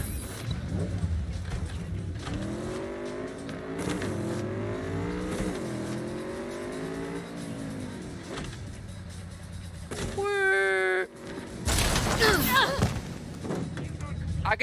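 A car being driven in the video game Cyberpunk 2077, its engine humming and rising and falling in pitch as it revs, with a few sharp thumps and bursts of noise near the end.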